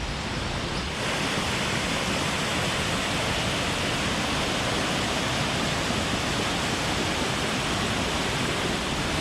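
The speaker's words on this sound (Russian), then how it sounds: "если обойти, то мы с вами увидим как раз водопад" The Düden waterfall in Antalya, Turkey, roars continuously, a dense and loud rush of falling water that stays steady throughout, with no voices.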